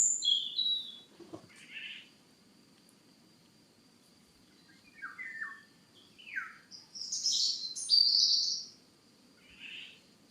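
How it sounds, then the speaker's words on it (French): Two European robins trading high, thin chirps and trills, short phrases separated by pauses, against a soft constant background buzz of insects. "J'ai 2 très jolis oiseaux qui sont en train de communiquer à côté de moi."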